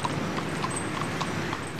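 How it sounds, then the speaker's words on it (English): Horse hooves clip-clopping on pavement as a horse-drawn carriage moves in a military-style funeral procession, a steady rhythmic clatter of hoofbeats at moderate distance over a broad outdoor background. "a military-style procession complete with a horse-drawn carriage"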